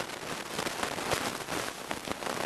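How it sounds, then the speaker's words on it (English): Steady rain patters and hisses continuously, an even wash of drops striking a surface close by. "It's raining outside."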